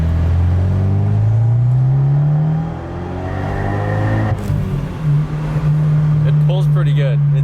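A big-turbo Abarth 124 running on E85 pulls hard through the gears, its engine note climbing in long rising sweeps, dipping at a shift, then rising again, loud and close from inside the car.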